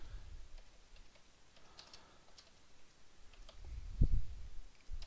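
A computer keyboard and mouse in use while creating folders on a computer, scattered faint key taps and clicks at close range with a few louder knocks near the end, quiet overall.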